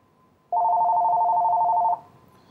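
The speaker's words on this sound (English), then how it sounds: "And then this phone should be ringing momentarily." A VTech desk phone rings with an incoming transferred call: one continuous electronic trill, loud and close, lasting about a second and a half, with no talk.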